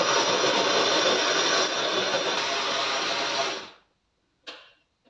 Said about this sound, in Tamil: இப்போ மிக்ஸி ஜாரில் ஊற வச்ச நட்ஸு சேர்த்துட்டு அதோட கொஞ்சமாக பால், செவ்வாழை வாழைப்பழம்